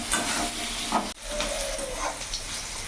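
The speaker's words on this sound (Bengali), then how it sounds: "বেগুনটা আমি লাল লাল করে ভেজে নিয়েছি" Eggplant pieces fry in oil, a close, loud steady sizzle and crackle with a brief dip partway through, then continuing, no voices.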